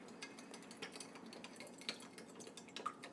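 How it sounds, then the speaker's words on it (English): A spoon stirring a solution in a pot while making mozzarella cheese, soft scraping and faint clinks repeating in a loose rhythm, quiet and close with no voices. "Okay, I'm just going to give that a little stir."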